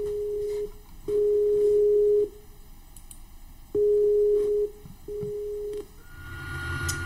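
A telephone busy signal sounds while calling back: loud, steady tone bursts switching on and off in a broken pattern, with a click at the end as the line changes.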